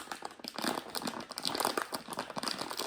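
Plastic bag of salt crinkling and crackling as its corner is worked open, a quiet, close, continuous rustle with uneven bursts.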